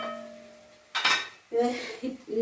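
Dishes clatter and clink, with a burst of metallic scraping followed by a few ringing knocks of pots and utensils nearby.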